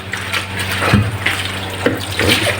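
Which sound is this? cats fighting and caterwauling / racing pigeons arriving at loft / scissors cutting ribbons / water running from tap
water running from tap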